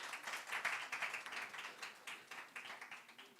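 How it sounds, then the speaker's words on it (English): An audience at a panel discussion claps in a quick, dense patter of many hands. The applause comes in rolling waves and fades slightly, and it is fairly quiet and distant, with no speech over it. "can we please have a round of applause for our esteemed panel once again?"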